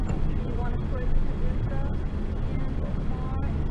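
A motorcycle engine rumbles steadily and loudly throughout a ride, a dense low drone with wind-like roar, with voices talking over it.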